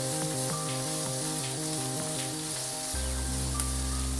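Onions and pinched curry leaves sauté in hot oil in a pan, a steady close sizzle running throughout beneath prominent background music.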